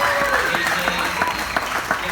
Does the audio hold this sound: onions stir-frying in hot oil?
no